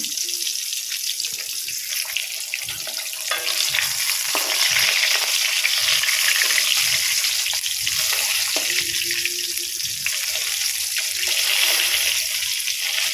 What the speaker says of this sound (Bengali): মাছ ভাজা হচ্ছে এদিকে বন্ধুরা